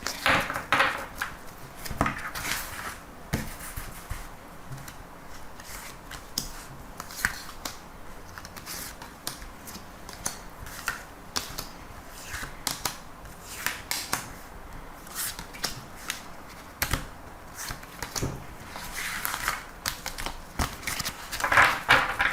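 Tarot cards are shuffled and drawn up close, with repeated papery riffles, flicks and soft slaps coming in irregular bursts for about twenty seconds and no voice over them.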